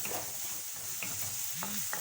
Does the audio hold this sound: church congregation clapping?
no